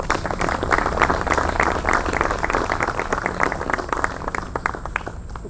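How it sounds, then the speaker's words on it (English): Crowd applause at an outdoor statue dedication ceremony for a basketball Hall of Fame member, continuous brisk clapping from many hands, fairly close and full, holding steady for several seconds. "Ladies and gentlemen, a round of applause, please, for Mr."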